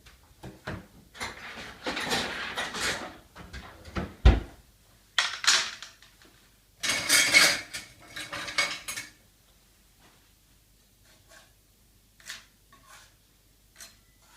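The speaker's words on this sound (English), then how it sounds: "So now I'm going to put them on a cooling tray." Freshly baked ginger biscuits lifted off a tray onto a cooling rack, a run of close metallic clinks, scrapes and clatters in bursts over the first nine seconds, then a few faint taps before quiet.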